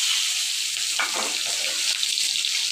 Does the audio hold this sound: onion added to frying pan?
yes